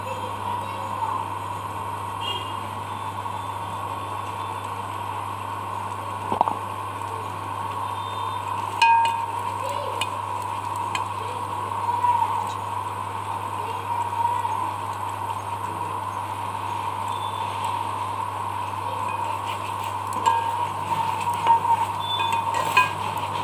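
Spice mixture frying in a pan, a soft continuous sizzle under a steady mechanical hum, with occasional clinks and scrapes of a spoon stirring, no voices.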